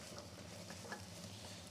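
Food frying in a pan gives off a soft, steady sizzle with faint crackles and pops, close but quiet, with no talk.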